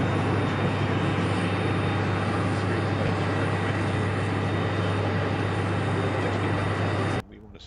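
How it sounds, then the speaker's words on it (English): A Boeing 767 airliner at Heathrow makes a loud, steady jet roar with a constant low engine drone, holding for about seven seconds before cutting off abruptly. "It's a Boeing 767. Just done 2 circuits, or was that 3 circuits?"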